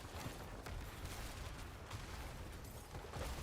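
Rapid spell explosions in the game Diablo IV from a Season 8 Ice Shards Sorcerer build: a dense, continuous barrage of overlapping blasts and crackling bursts at moderate level, with no voices.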